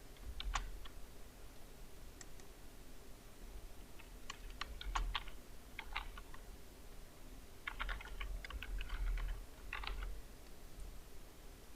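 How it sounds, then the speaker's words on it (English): Typing on a Mac computer keyboard, close and quiet clusters of key clicks in several bursts separated by short pauses. "Now type your caption"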